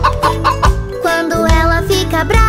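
A chicken clucks through a Portuguese children's song about farm animals, the bird sounds mixed into steady, loud music with a rhythmic beat.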